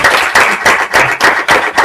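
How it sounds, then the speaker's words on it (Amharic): An audience claps in applause for a graduate's mother at a celebration, loud close hand claps gathering into a few rhythmic surges, with no talk over them. "ጭብጨባ።"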